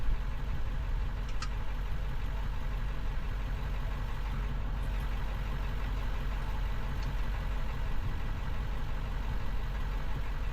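A tow truck engine idles nearby in a steady, even rumble that holds for the whole stretch, with no clear mechanical movement standing out above it.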